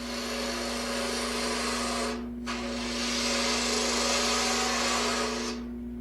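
A 3/8 modified spindle gouge hollows a wooden capsule box on a lathe, giving a steady loud whirring hiss with a low motor hum beneath, briefly dropping out once before cutting resumes.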